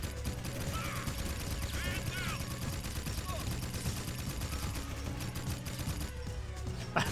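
Rapid gunfire from the Jak 2 video game, steady bursts and shots running through the whole stretch over a dense game soundscape, with faint voice-like sounds in the mix.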